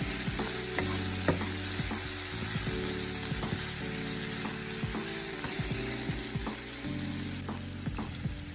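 Garlic, ginger and scallions sizzling in a pan for a vegan dish, a steady close frying hiss broken by scraping stirs and light utensil clicks throughout.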